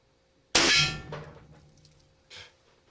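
An Hp-Max .51 caliber air pistol fires indoors with a single sharp, loud metallic bang that rings and decays, followed by a fainter clatter about two seconds later.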